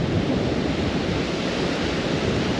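Steady ocean surf washes over a beach at a surfcasting spot, a loud, continuous broadband rush of breaking waves with some wind, no voices.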